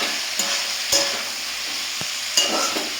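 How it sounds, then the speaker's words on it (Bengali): Kudri potatoes frying in a pan with turmeric, giving a steady close sizzle broken by a few sharp scraping stirs of a utensil against the pan. "এবার ঢাকা দিয়ে ভাজবো।"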